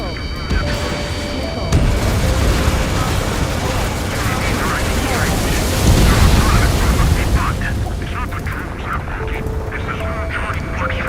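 A missile explosion in the Ace Combat jet combat game, a dense, loud rumbling roar with booming blasts and jet engine noise over the whole stretch, with a swell in the middle and radio-style voices over it.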